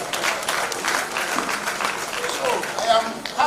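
Members of an association at a gathering clap together, a busy, uneven patter of hands with voices and shouts mixed in throughout.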